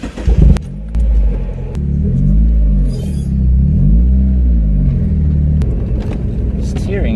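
A Mazda Miata with a blown motor drives along, its engine note rising and falling through repeated revs under a low rumble, heard from inside the car.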